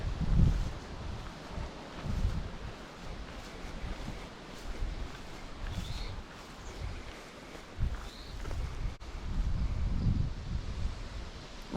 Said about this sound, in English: now the wind's coming up